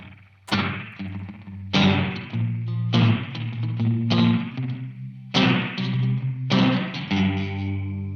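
Electric guitar played through a chorus pedal with a slapback-delay, spring-reverb-like effect: six loud strummed chords ring out in a steady rhythm, each with a sharp attack and a shimmering, warbling decay, played alone.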